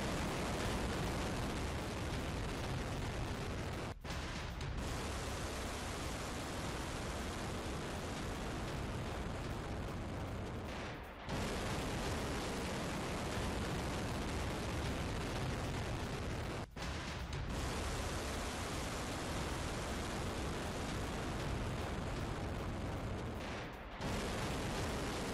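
A North Korean nuclear-capable hypersonic missile launch gives a steady, broad, rushing roar that holds nearly unbroken and fairly faint, with only a few brief dips in the noise.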